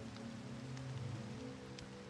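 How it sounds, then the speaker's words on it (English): Gentle rain patters steadily in the Minecraft video game, a soft, continuous wash of falling drops with a low rumble underneath and no voices. "it is nice to have a moment to just sit and enjoy the nice, gentle pattering of the raindrops"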